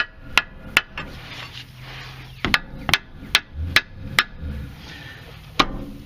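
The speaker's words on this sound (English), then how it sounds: "Very hard to hammer under here." Sharp, close metal-on-metal hammer strikes under a Kia or Hyundai car during front lower control arm replacement come in irregular bursts, some quick pairs and some spaced apart, with brief quiet gaps between.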